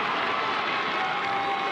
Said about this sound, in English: you can hear the Greyhound faithful in the crowd, super fired up